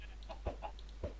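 Chickens in Minecraft clucking in a few short, soft bursts, faint and close with no talking.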